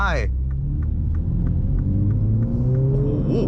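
A 2021 MINI Hatch JCW with 231 horsepower accelerates hard at full throttle, its engine holding a loud, steady rumble with rising harmonic tones that climb as it pulls, heard from inside the car alongside faint speech.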